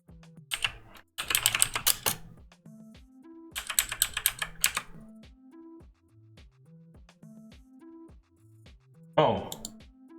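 Bursts of quick typing on a computer keyboard, two long runs of clicks and a final short flurry, close and crisp, with a voice speaking in the quiet gaps between.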